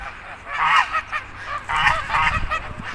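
A flock of geese and ducks honks and cackles noisily at close range, several overlapping calls in two loud bursts over about three seconds.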